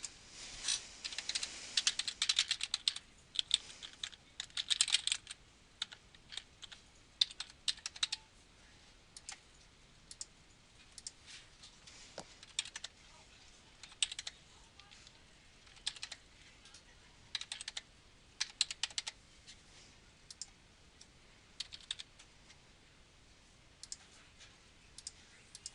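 Rapid typing on a computer keyboard while filling in an online payment form, with irregular bursts of crisp clicking keystrokes and short pauses, close and clear, with no talking.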